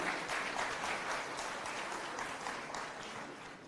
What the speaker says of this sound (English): Can we have a louder applause?